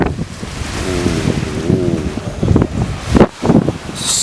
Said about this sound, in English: And then check out the sea.